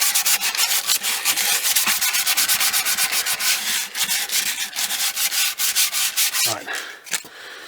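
Rhythmic back-and-forth sanding scrapes across the wooden body of a Les Paul style guitar, loud and close, strokes quickening then slowing before a brief pause and a final few passes, with a single short spoken word.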